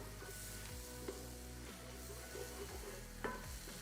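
Garlic sizzles steadily in a hot pan and is stirred, giving a close, continuous crackling fry with occasional scraping clicks from the utensil. It is heard alone without speech.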